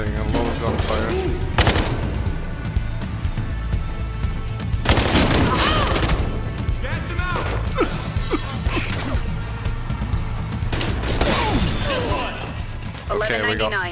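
Rapid bursts of gunfire from a Battlefield: Hardline match on PS4, with several loud volleys and crashes over a steady dense game soundscape, close and sustained throughout.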